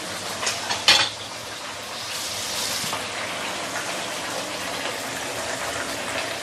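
Black pomfret fish deep frying in hot oil: a steady, dense sizzle and crackle throughout, with a brief louder splatter near the start before the bubbling settles into an even hiss.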